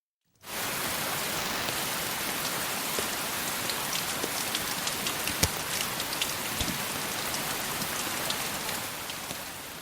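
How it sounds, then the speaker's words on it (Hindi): Steady rain falls outside, a dense continuous hiss of drops on surfaces filling the whole stretch after a brief silent start, with occasional sharper drips standing out, no voices. "बाहर बरसात हो रही थी।"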